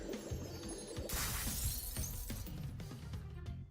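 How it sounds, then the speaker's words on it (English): Glass shatters in a sudden bright crash that breaks the device apart, followed by scattered tinkling fragments over a low background hum, fairly faint and with no voices. "With the sound of shattering glass, the device breaks into pieces."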